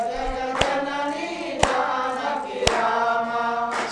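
Sharp, evenly spaced claps ring out over sustained devotional chanting, roughly one clap per second, loud and close.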